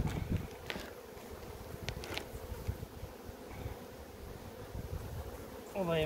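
Honeybees from a varroa-infested colony buzzing near the hive, a faint, wavering drone under light wind and rustling, with a nearer bee passing close at the end.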